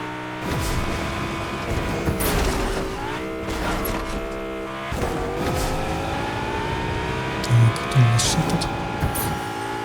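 A car in Fortnite drives along steadily, its engine droning loud and near with rising and falling revs and a few brief sharp noises over the top.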